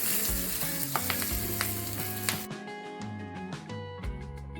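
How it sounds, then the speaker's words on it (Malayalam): Karimeen pearl spot fish pan-frying in hot oil in a Kerala-style kitchen, a steady dense sizzle and crackle with occasional stirring clinks and scrapes, close and continuous. "എണ്ണ ചൂടായതിനു ശേഷം നമ്മുടെ മീൻ വെച്ച് തിരിച്ചും മറിച്ചുമിട്ട് പൊള്ളിച്ചെടുക്കാം."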